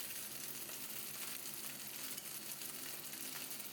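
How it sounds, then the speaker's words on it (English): Pad thai sauce poured over rice noodles in a hot pan gives a faint, continuous sizzle and crackle, a steady frying hiss lasting a few seconds with no voices. "And in goes our pad thai sauce."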